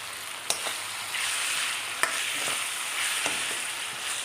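Curry leaves frying in hot oil for hotel-style shavige upma (vermicelli upma), a steady close sizzle with a few sharp pops and spatters over the crackle, no voices.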